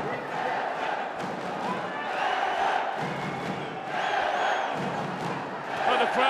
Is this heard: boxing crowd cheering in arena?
yes